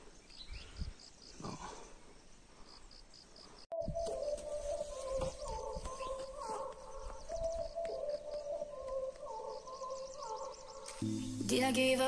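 A caged decoy red-whiskered bulbul hangs at a songbird trap outdoors, with repeated bright chirps and calls over steady ambient bird and insect noise and a soft cooing.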